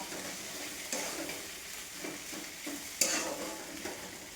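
Fenugreek greens stir-fried in a pan with a green chilli tempering, giving a steady soft sizzle with intermittent scraping stirs, close and fairly quiet, no talking.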